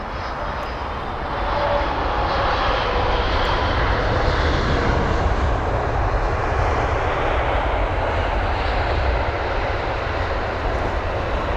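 Boeing 777 airliner at London Heathrow Airport, a loud, steady jet engine roar that swells in the first seconds and then holds as a broad continuous rumble, with no voices.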